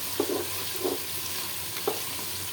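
Biryani ingredients frying until brown in a pan for an iftar meal: a quiet, steady sizzle with a few soft scraping stirs spaced apart.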